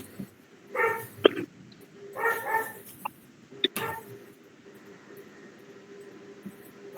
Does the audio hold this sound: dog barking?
yes